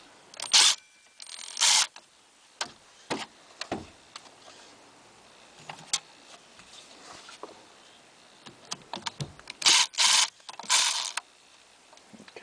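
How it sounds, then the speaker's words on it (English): Screws are backed out of the center of a 1977 Corvette steering wheel, giving sparse close mechanical clicks, ticks and short ratcheting bursts separated by quiet gaps, with no talking. "we also have a couple of screws in the center here. And we'll pop them out of there."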